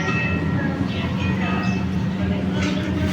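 Jenggala commuter train 478 pulling away from track 5 of an Indonesian station on the Gresik–Mojokerto line, a steady low rumble and rolling drone that persists throughout under people talking.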